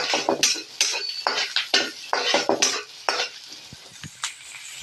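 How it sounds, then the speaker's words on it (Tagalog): Garlic and onion sautéing in a little oil in a pan, with steady sizzling broken by repeated scraping and clinking strokes of a metal spoon against the pan, close and fairly loud, with no talking. "dito na rin po tayo nagisa ng bawang at sibuyas"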